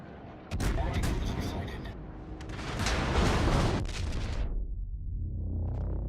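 Heavy naval guns boom in a warship battle video game, a loud sustained roar of salvos and rumbling blasts that fades into softer background noise.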